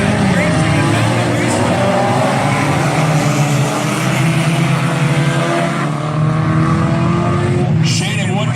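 Four-cylinder race cars battle in a heat on the Valley Raceway dirt track, several engines roaring loudly and continuously with rising and falling pitch as they pass, race commentary running underneath.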